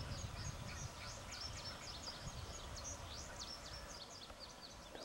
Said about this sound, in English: A wood duck.